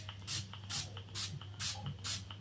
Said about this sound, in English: More spray.